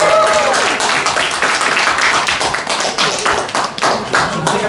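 A crowd claps at the close of a live comedy show at the Glasgow International Comedy Festival, loud and close, with individual sharp claps standing out in the mass and a few shouts rising over the applause.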